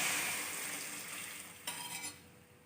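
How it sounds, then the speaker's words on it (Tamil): Tamarind gravy goes into a hot pan of oil, giving a faint, steady sizzling hiss that fades slightly, with a brief burst of louder sizzle and a few soft clinks near the end. "இப்போ நம்ம கரைச்சி வச்சுருக்கிற குழம்பு அதில் ஊற்றிடணும்."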